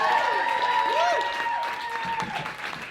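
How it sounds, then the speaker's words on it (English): Crowd applause for Tonica, with whoops and cheers mixed in, strong at first and then gradually thinning out. "A big round of applause for Tonica!"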